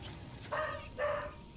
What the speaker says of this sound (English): I don't know what my dog's barking for